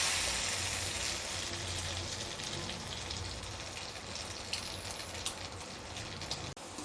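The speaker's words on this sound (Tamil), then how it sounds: "வெண்ணெய் போட்டால் இந்த மாதிரி பொங்கி வரும்" Butter melting and bubbling in a pan while being made into ghee gives a steady, dense crackling sizzle with fine popping throughout, close and fairly loud, with no voices.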